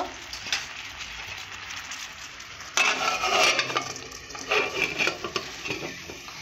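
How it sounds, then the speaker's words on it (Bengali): Amla (Indian gooseberry) morabba is stirred in a pot, giving a scraping, swishing sound with faint sizzling and occasional clinks of a spoon against metal, louder in the second half. "এইভাবে 1 ঘন্টা নাড়তে থাকবো"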